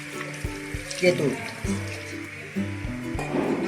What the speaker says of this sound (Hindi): और अब हम इसके अंदर डालेंगे 2 गिलास पानी।